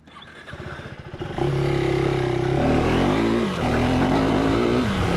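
A KTM 390 Enduro motorcycle engine revs hard at an off-road riding park, starting with a choppy idle and then climbing into a loud, sustained high-rev drone that holds close and steady, with no talking.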